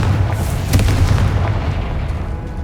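A Confringo fire spell explodes in the Hogwarts Legacy video game: a deep booming burst that rumbles and fades over a couple of seconds, with no one speaking.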